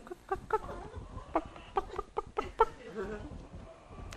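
A human voice imitates a chicken clucking, a series of about ten short rhythmic clucks spaced irregularly, close and fairly soft.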